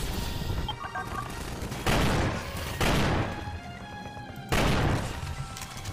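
Gunfire in a Half-Life 2 mod played in Garry's Mod: loud bursts of rapid shots in three separate volleys, each a second or so long, with quieter rumble and scattered shots between them.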